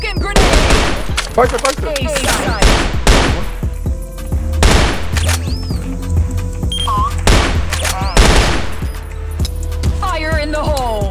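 Rapid gunfire bursts from the CrossFire shooter game crackle loudly in repeated volleys, with a player's voice talking between and over the shots.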